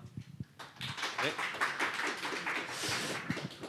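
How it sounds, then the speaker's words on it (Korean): Audience at an architecture policy idea competition award ceremony breaks into applause, a moderate burst of many hands clapping that builds after a short quiet start, with some voices underneath. "박수로 모시도록 하겠습니다"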